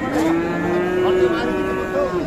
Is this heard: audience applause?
no